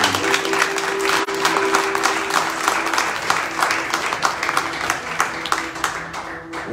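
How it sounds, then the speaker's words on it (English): Loud, full applause from a crowd at a Christian gathering, a thick continuous wash of many hands clapping close by, carrying on for several seconds with a faint tone underneath. "Give yourselves a round of applause."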